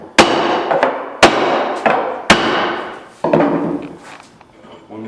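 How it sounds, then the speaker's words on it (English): A rubber mallet pounds a board down against the edges of glued cabinet sides near a clamp, giving four or five sharp, loud, close thuds spaced about a second apart, each followed by a short ringing decay. "I like to take a board and a rubber mallet, just pound down the edges of the board near the clamp."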